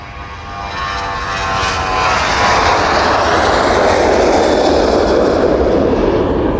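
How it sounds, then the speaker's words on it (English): A Jet2 airliner comes in to land at East Midlands Airport, its engine roar swelling from a distant whine into a loud, broad, steady rush as it passes close overhead, with no voices. "Jet 2 service is making its way down towards us now."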